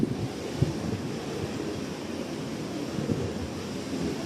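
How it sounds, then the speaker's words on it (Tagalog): Strong wind buffets the microphone at the seaside, a steady low roar with gusty bumps over faint surf, no voices. "Grabe ang hangin."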